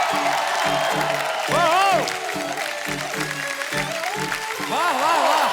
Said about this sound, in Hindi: जोरदार तालियों से स्वागत कीजिए डीएसपी साहब का